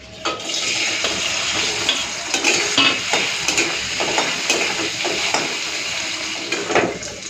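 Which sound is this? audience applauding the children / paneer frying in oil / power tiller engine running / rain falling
paneer frying in oil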